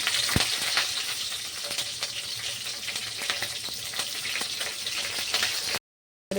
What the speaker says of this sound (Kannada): ಇದ್ರಾಗ ಬೆಳ್ಳುಳ್ಳಿ ಹಾಕೊಂಡಿನಿ ಮೆಣಸಿಕಾಯಿ ಹಾಕೊಂಡಿನಿ ಈಗ ಉಳ್ಳಾಗಡ್ಡಿ ಹಾಕೊಂಡಿನಿ ಇಷ್ಟು ಚಂದನತ್ತೆ ಈಗ ಫ್ರೈ ಆಗೋಣ